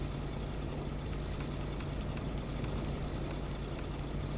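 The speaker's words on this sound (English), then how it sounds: "My truck is so loud." Loud truck engine idling in the video game Kona, a steady low rumble with a constant hum, plus a faint periodic ticking above it, with no talk.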